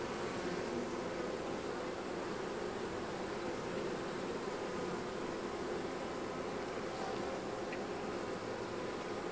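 Honey bees at an open hive during an inspection make a dense, continuous drone that stays loud and steady throughout, with no talking.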